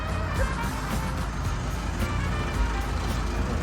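Komatsu WR11-3 wheel loader engine idling steadily nearby, a dense continuous low rumble with no talk over it.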